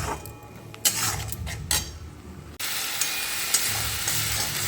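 Onions for a festive red goat curry fry in a pan, with metal spatula scrapes and clinks against the pan over a soft sizzle that swells into a loud, steady hiss halfway through.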